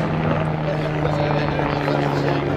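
Red Bull BO-105 helicopter with a rigid rotor flying aerobatics at the La Ferté-Alais airshow, giving a steady droning rotor and engine hum under a voice talking.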